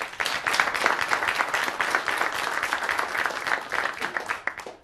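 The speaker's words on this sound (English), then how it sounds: "Those who believe no, please applaud." A live studio audience applauds, a dense, steady burst of clapping lasting several seconds and tailing off at the end.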